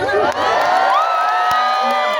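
A large outdoor crowd at an Islamic religious gathering on a field in Madiun cheering loudly, with shrill whoops and children's shouts blending into a continuous roar that stays close and full for the whole stretch.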